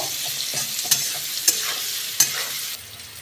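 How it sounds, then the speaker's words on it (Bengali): A fried mixture being stirred in a pan, several sharp spatula scrapes and knocks over a continuous close sizzle, with no voices. "আবারও আমি এটাকে খুব ভালো করে নাড়াচাড়া করব।"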